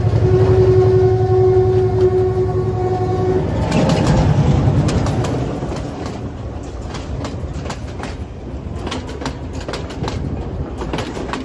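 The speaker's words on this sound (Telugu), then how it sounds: "మిరాయి మూవీలో యూజ్ చేసినటువంటి ఓపెన్ టాప్ ట్రైన్ కూడా నేను ఇదే లొకేషన్లో ఉండగానే ఆ ట్రైన్ కూడా వచ్చింది" An open-top tourist train rumbles past in Sri Lanka, loud and close, with a sustained horn tone over the first few seconds before settling into a steady rolling clatter of wheels on rails.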